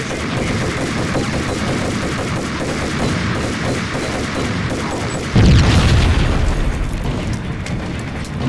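Gunfire in the Max Payne video game, a loud, continuous stream of rapid shots with a heavier booming burst near the end and no talking.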